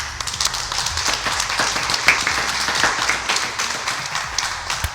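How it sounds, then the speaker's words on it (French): An audience at an evening show bursts into applause, clearly separate claps forming an uneven, lively patter with a few sharp louder hits, close and fairly loud, with no talking over it. "un tonnerre d'applaudissements, il faut que je les trouve"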